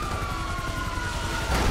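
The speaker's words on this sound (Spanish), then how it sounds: "Hay una ambulancia acá" A wailing ambulance siren in the video game Grand Theft Auto 5 holds a steady pitch over a low rhythmic engine rumble, moderately loud, with a thump near the end.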